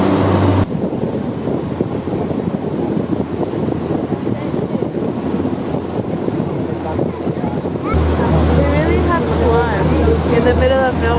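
Wind roars across the microphone on a moving boat in the Marano wetlands of Italy, a loud steady rushing with engine and water noise beneath and a voice talking toward the end.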